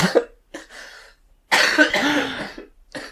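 Several bursts of harsh, phlegmy coughing close up, separated by short pauses, one longer fit in the middle.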